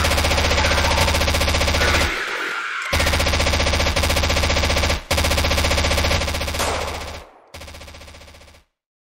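Loud, rapid automatic gunfire in a Minecraft game, continuous bursts with a few short breaks and sudden cutoffs, ending in silence.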